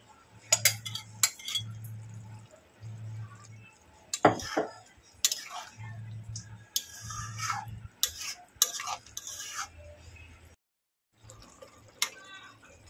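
Okra tipped into a boiling yogurt masala curry, then stirred: a run of sharp utensil clinks and scrapes against the pot, some close and loud, over a low steady simmering hum that drops out briefly near the end.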